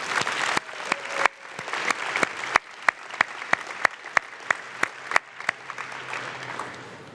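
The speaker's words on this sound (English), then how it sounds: "let's give them a round of applause" Audience at a medical school Match Day 2023 gathering applauding students' faculty supporters, a sparse round of individual sharp claps that builds, then thins and fades out near the end.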